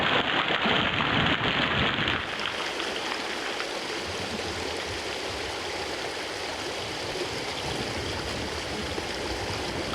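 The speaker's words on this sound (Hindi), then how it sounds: "ओह, बाहर तो बारिश हो रही है।" Steady rain falls outside as a dense, continuous hiss, loud and unbroken for the whole stretch, in a Hindi cartoon, with no voices heard.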